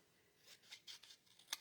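Scissors snip through a sheet of glimmer paper in a few quick, faint, close crisp cuts, ending in one sharper snip, with no talk.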